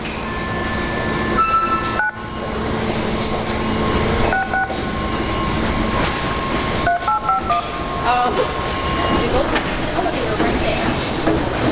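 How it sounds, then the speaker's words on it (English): A Brooklyn-bound 4 express subway train rumbles into a New York City station with a steady roar, punctuated by bright electronic chime tones and a brief dip mid-way, the noise staying loud throughout. "Brooklyn-bound Express 4 train to Crown Heights and Utica Avenue, approaching the station"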